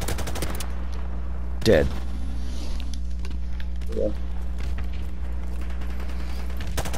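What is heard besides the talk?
gunfire in video game Modern Warfare Remastered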